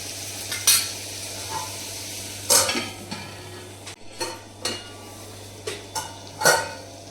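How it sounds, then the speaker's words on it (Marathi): A spoon stirs soybeans and peanuts in a pan, giving several distinct scraping clatters at irregular intervals over a low, steady background hum, with no talking. "आता थोडंसं आपण हे सोयाबीन हलवून घेऊया"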